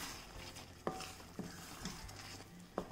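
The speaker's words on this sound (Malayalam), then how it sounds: "നന്നായിട്ടൊന്ന് ഇളക്കി കൊടുക്കാം." A spoon stirs a simmering mixture in a pot with a little vinegar added, quiet bubbling and soft scraping punctuated by a few sharp metallic taps on the rim, faint and close.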